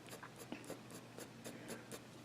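A pencil draws realistic tiger fur on paper in quick, quiet scratching strokes, about ten short rhythmic scrapes in a row, close and soft with no talking.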